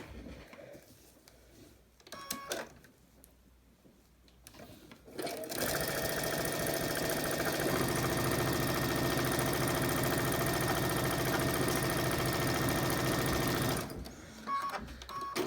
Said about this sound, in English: now we're going to go sew it down.